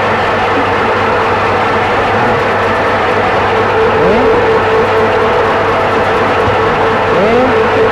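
MKS-MSL33 combination meat and fruit slicer machine running, a loud continuous motor drone with a steady mechanical hum and faint tonal sweeps.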